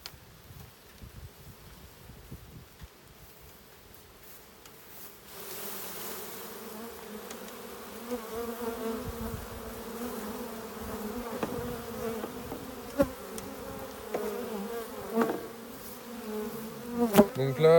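Honeybees foraging at a hive kept for royal jelly production make a steady droning buzz that thickens and grows louder partway through, with faint rustling and occasional clicks close by.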